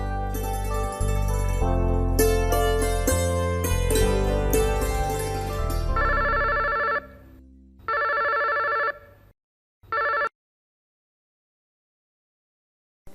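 A telephone rings in repeated bursts, loud and electronic over music, then continues alone with pauses between rings before stopping.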